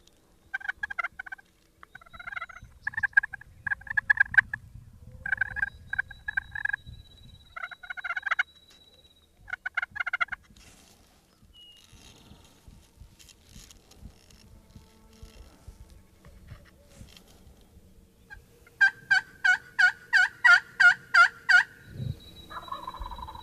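A wild turkey gobbles again and again, loud rattling calls in short bursts at first, then a closer run of rapid gobbles near the end, with faint rustling and handling noise between calls.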